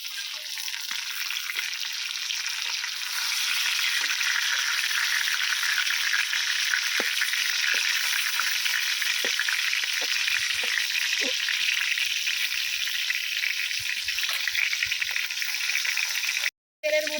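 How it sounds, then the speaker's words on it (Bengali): Pieces of pointed gourd (potol) fry in hot oil with a loud, continuous sizzle heard up close. Faint clinks from stirring come through near the end, and the sound cuts out briefly just before the finish. "পটলগুলোকে আমি খুব ভালো করে লাল লাল করে ভেজে নেব"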